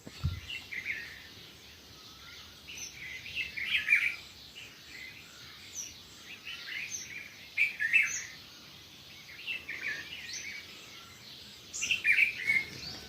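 An Asian koel calls on a quiet morning, its clear, fairly faint calls rising in short bursts about every four seconds over a hushed background.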